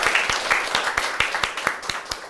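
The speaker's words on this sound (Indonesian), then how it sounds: "tepuk tangan dulu dong" An audience at a live comedy show applauds, steady crowd clapping with distinct individual claps popping out in a fairly regular rhythm over a continuous wash of hands.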